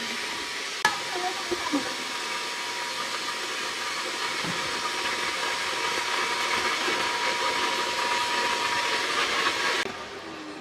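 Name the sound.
vacuum cleaner running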